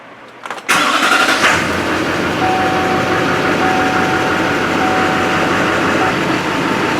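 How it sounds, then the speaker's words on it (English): A truck engine cranks and fires after a brief quiet moment, then settles into a loud, steady running drone close by. A faint tone runs through the idle. "I'm going to start this truck and let's just see what happens here."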